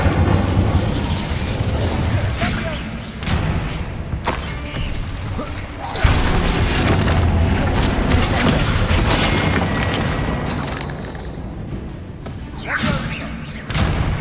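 Incendio fire spell cast in the Hogwarts Legacy video game: a dense, loud mix of whooshing bursts and booming impacts over steady game music and ambience, with sharp hits recurring every few seconds.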